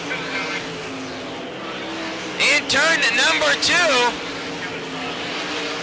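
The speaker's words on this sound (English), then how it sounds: "we have a car slowing down" Sprint car racing at a Barberville, Florida dirt speedway: steady engine roar across the field, with a brief louder burst of rising and falling engine notes from a car nearby as it slows, under an announcer's commentary.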